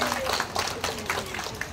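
A crowd gives a round of applause at a community refrigeration event at Hyatt Court, a dense steady wash of clapping that holds for the whole stretch, with some voices mixed in.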